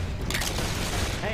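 Dense gunfire rattles in Left 4 Dead 2, overlapping rapid shots forming a continuous loud barrage with booming low end, close and chaotic, with a voice shouting over it.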